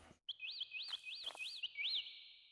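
A passive, bird-like creature in the voxel game Lucid Blocks chirps about five times in a steady run, each chirp a bright rising whistle repeated at an even, close-range pace.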